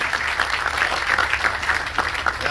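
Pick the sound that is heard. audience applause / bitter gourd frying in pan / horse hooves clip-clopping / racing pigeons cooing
audience applause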